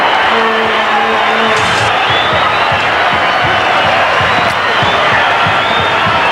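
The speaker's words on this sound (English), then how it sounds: "let's just listen to this crowd applaud a champion team for a champion effort" A stadium crowd at a 1990 rugby league match gives a standing ovation to the champion Canberra side after a 66-4 win, a loud, continuous roar of cheering and applause with scattered claps, and a voice talks briefly near the start.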